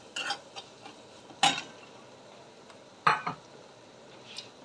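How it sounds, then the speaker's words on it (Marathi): A spoon stirs kasuri methi through a mixture in a pan, giving faint scraping swirls punctuated by a few sharp metallic clinks against the vessel in a quiet kitchen. "आणि पुन्हा एकदा हे छान मिक्स करून घ्यायचंय."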